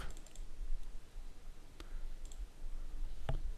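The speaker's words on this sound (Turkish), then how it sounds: "F3'e basıyorum." A keyboard key, F3, is pressed during Photoshop image editing, giving a few faint, dry clicks spread across the stretch, with one sharper click near the end over quiet room noise.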